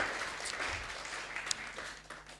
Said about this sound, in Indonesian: Yang mau beri tepuk tangan yang terbaik buat Tuhan Yesus